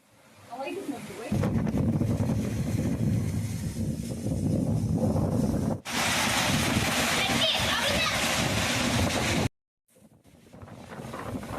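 Strong wind roars and buffets the microphone in loud, sustained gusts, cutting out briefly before returning; a voice is faintly present.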